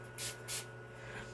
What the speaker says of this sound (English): So we're going to go ahead and spray the face.